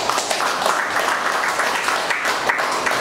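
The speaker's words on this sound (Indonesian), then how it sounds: "tepuk tangan untuk Bapak Subaidi" An audience breaks into steady, dense applause at a corporate table-talk event in Sumenep for the founder and director of a mobile phone company, sustained and fairly loud throughout with no pauses.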